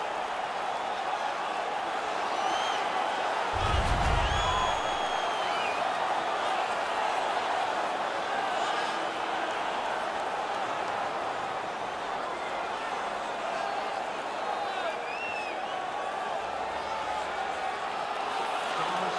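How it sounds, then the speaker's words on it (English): Simulated arena crowd at an NHL 19 ice hockey game between the Dallas Stars and Florida Panthers, a steady roaring crowd bed under a commentator's talk, with a brief low thump partway through. "The crowd is all over them right now."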